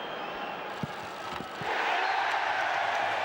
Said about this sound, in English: Rather ironic cheer greets the penalty.